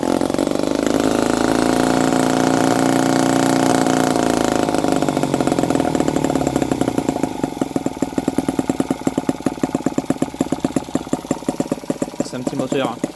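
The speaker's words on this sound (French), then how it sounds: "C'est un petit moteur." A tiny four-stroke engine, sold as the world's smallest, runs steadily and loud, up close, with a buzzing idle whose firing pulses slow and become more distinct toward the end.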